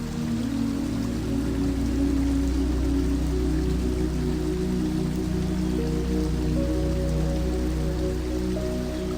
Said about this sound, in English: hear the rhythm, the pulse, the voice of the waterfall, steady and serene